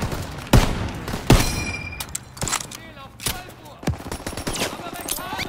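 Bursts of machine gun fire from a second floor in Call of Duty WW2, sharp loud rapid shots in short volleys amid battle noise, with shouting voices over them.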